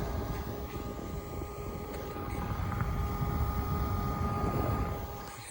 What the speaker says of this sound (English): So that's the little AC unit that we got.